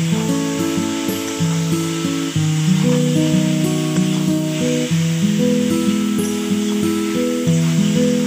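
Taro corms fry in a pan with a continuous, fairly loud hiss, steady and close throughout, with a faint tonal hum underneath and no one talking.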